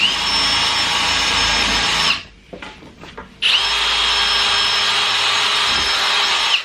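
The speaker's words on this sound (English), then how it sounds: "I put 5 holes in it because I'm using pretty small rule plugs, as I don't want to go too far into the wall" Power drill boring holes straight through carpet into a wall for small wall plugs, two long loud high-pitched whining bursts separated by a short pause with faint clicks and handling noise.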